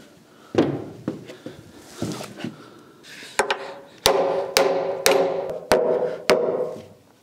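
A bolt is hammered into an old wooden structural beam during a tower room restoration, with about seven sharp, ringing metallic blows after some lighter knocks and shuffling, evenly spaced and close by.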